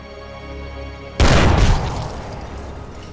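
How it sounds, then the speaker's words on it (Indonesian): A gunshot in a film: one sudden loud boom breaks over a quiet musical score and decays into a rumbling tail. "Dengan terpaksa, Arthur pun menembak Harry sampai meninggal."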